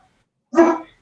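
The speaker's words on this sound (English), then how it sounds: "now she's barking at her own bark" A single short, sharp dog bark, heard close and alone against silence, rising abruptly and fading within half a second.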